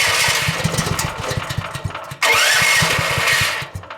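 A wood gas powered engine starting up off grid, with rapid rhythmic cranking chugs followed by a sudden loud burst as it catches and roars, then settles back toward chugging.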